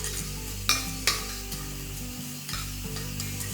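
Cumin seeds and a few curry leaves dry roasting in a pan, with soft sizzling crackle and a couple of sharp scraping stirs, close and steady with no talk.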